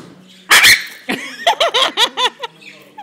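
A parrot imitates a dog, giving a loud opening yelp followed by a quick run of short, yappy barks that trail off.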